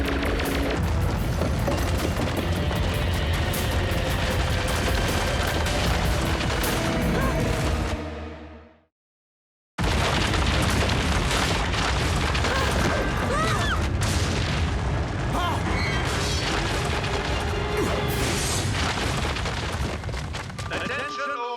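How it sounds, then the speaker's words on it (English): Cartoon warning-shot explosions from Transformers: Rescue Bots, loud continuous booming blasts with crashing debris and score, cutting to silence briefly near nine seconds before another sustained roaring barrage. "Consider that a shot across your proverbial bow."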